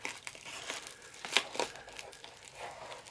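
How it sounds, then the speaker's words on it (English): A pocket knife slicing into a padded envelope produces close crinkling and tearing sounds in short uneven bursts, with a couple of sharper rips. "Here's a padded envelope, see if it'll cut that."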